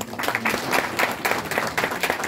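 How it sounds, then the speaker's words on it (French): Rhythmic audience clapping at a Guinean diaspora gathering in Dortmund, applause pulsing in quick regular bursts with crowd murmur underneath. "Je vous prie de l'applaudir."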